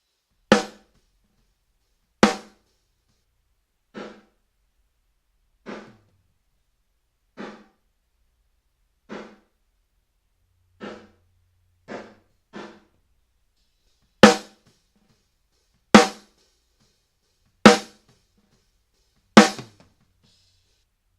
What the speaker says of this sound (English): the medium room sound, just the reverb, without the direct snare signal